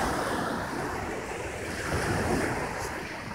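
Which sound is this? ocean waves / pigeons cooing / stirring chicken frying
ocean waves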